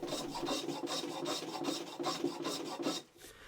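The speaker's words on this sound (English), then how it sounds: "we can plane the lip or the overhang back and clean up the outside faces" Rhythmic rasping strokes of a hand plane shaving a small square wooden log, about a dozen quick passes close by, then a pause at the end.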